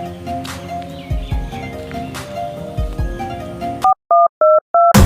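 A phone is dialed: after several seconds of background music, four short, evenly spaced keypad beeps sound clearly in near silence, followed by a brief noise at the very end.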